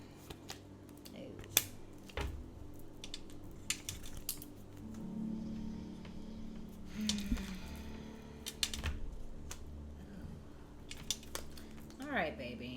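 Tarot cards being shuffled during a reading, heard as a run of quick, crisp papery clicks and riffles in irregular bursts against a low steady background hum.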